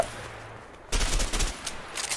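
An AR-15-style rifle fires in the A Way Out video game. After a quiet moment, a loud, rapid burst of automatic shots rattles out, then trails into scattered, quieter shots.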